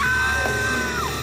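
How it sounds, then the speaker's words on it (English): A woman's piercing stock scream from a Buffy the Vampire Slayer scene, one loud sustained shriek that holds high and then bends downward before cutting off. "Darla has a great stock scream moment"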